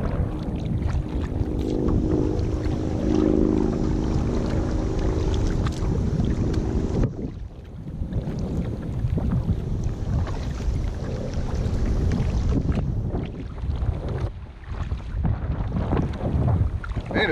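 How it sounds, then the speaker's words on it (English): Wind buffets the microphone out on open water from a Pelican Bounty 100 Angler kayak, a steady roaring rumble with gusty swells and brief lulls, and water faintly lapping beneath. "Man, it's windy today."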